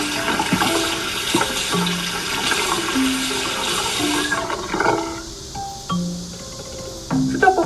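Water pours steadily from a tap into a sink, a loud continuous gush with splashing, then slows into softer intermittent trickles and drips toward the end.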